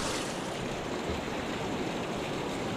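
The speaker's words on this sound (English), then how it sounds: "So water is flowing again." Steady broadband rush of a creek running again after heavy rain along the trail near Damascus, Virginia, a continuous close wash of flowing water with no voices.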